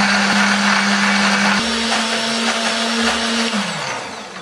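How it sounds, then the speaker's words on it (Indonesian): A blender roars steadily as it grinds lemongrass, candlenut, garlic, shallots, turmeric and ginger with a little water, its motor pitch stepping up partway through and then winding down near the end. "Kita masukkan dulu ke dalam blender, tambahkan kemiri, bawang putih, bawang merah, kunyit, jahe, tambahkan sedikit air supaya lebih gampang untuk menghaluskannya."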